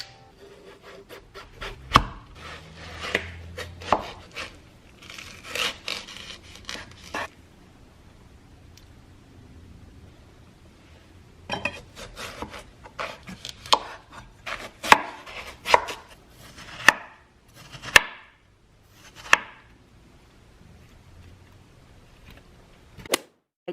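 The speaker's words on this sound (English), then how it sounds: "And now I announce to you, watermelon cutting ASMR." A knife slicing through a watermelon, with crisp crunching cuts and sharp thuds on a board, scattered irregularly and close up against a quiet background with pauses between bursts.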